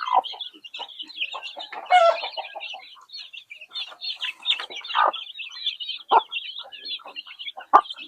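Chickens cluck and a rooster calls in a rural Thai village yard, repeated bursts of clucking near and loud over steady chirping birds, with a few sharper squawks and no talk.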